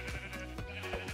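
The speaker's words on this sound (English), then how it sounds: "Come on, sheep!" A sheep in a video game bleats in a short, wavering, nasal cry. It sounds close and clear over a faint steady background.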